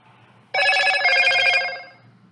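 A Motorola phone rings close by with a loud electronic ringtone that starts abruptly and holds steady for about a second and a half before cutting off, with no speech over it.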